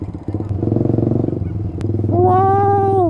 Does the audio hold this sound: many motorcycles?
yes